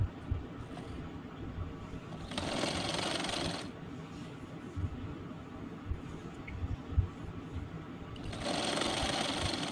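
A sewing machine runs in continuous rapid bursts while stitching a fabric collar, its needle chattering close and steady, with brief louder surges.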